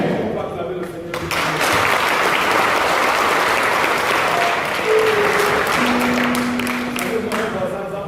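Church congregation applauding and cheering loudly and steadily, dense clapping with voices calling out and a few sustained tones from an instrument or singing underneath.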